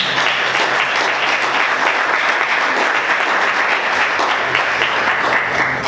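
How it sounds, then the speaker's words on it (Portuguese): A church congregation claps together at a Portuguese-language service, a full, even wash of applause held loudly from start to finish. "Vamos aplaudir o Senhor."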